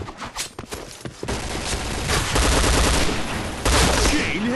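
P90 rapid gunfire in a video game, close and loud, dense bursts of automatic shots running almost continuously after a few scattered opening cracks.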